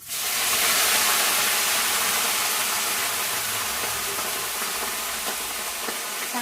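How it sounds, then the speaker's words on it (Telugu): Hot tempering is poured into a pot of rasam, bursting into a loud sizzling hiss that starts abruptly and slowly fades while staying strong and close. "పోపు అయిపోయింది, వేసేస్తాను."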